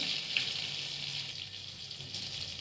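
Butter heating in a pan for chicken masala gives off a soft, steady sizzle, faint and continuous with a light airy hiss throughout.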